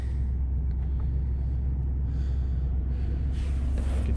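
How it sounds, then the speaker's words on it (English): A 2020 Ford F-250 Super Duty truck idles steadily with a deep, constant engine rumble, heard from inside the cab, alongside faint breathy noises. "my truck's running"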